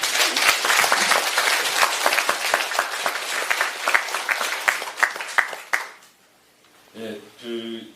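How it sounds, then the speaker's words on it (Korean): Audience applause at a lecture gathering of a congregation: sustained loud clapping from a crowd fills the room for about six seconds, then fades out, followed by someone speaking. "교도님들께 박수를 한번 좀 보내드려야겠습니다"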